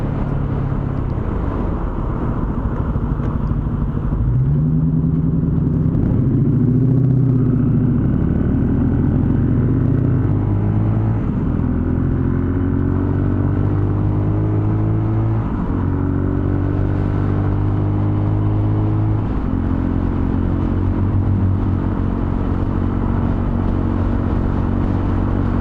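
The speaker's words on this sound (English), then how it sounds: "I'm guessing you could hear that Challenger when he took off. He's a bit loud." A Dodge Challenger pulls away with a loud exhaust, a deep engine roar rising in pitch through several gear changes as it accelerates, steady and prominent against a constant background rumble with no talking.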